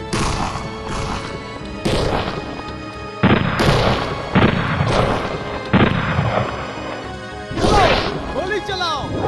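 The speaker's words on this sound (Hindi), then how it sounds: "वो हम पे गोली चला रहा है।" Heavy booming gunshots and impacts in the 2002 Hindi video game Bhagat Singh, several loud blasts spaced a second or two apart, with voices talking and shouting over them.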